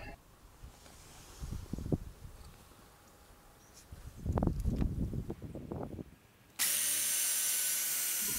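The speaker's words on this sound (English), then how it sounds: "This was a try to drill with one hand and to hold the camera with the other hand" A power drill bores into a long hardwood bench, with scattered knocks and handling noise before a louder burst of drilling midway, then a steady high whine takes over at the end.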